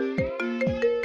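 Repeated electronic phone ringtone on a call being placed, four or five bright tonal bursts in a steady rhythm, close and clear with no talking.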